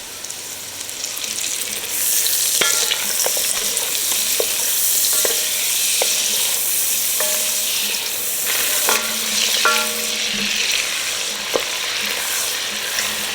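A whole stick of salted butter melts in a pot for oyster chowder, giving a steady, loud sizzle throughout. Small clicks and scrapes of stirring come through over the frying hiss.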